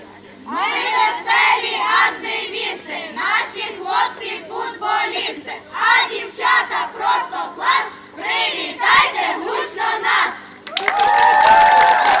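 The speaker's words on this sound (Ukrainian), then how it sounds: "П'ятий загін, наша кричалка." Fifth squad of children at a summer camp shouting their group chant in unison, a loud rhythmic chorus of young voices that keeps going for several lines and ends in louder overlapping shouting.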